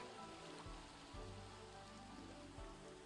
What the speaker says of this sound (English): Oh, and it's raining.